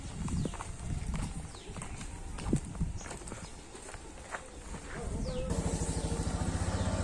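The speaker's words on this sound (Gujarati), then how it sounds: "હવે આમાં ગધેડા ગાડીમાં ભાગીએ" Hooves of a donkey pulling a loaded cart clip-clop steadily along a road, close and fairly loud, with the rhythm becoming denser and more regular toward the end over traffic and street noise.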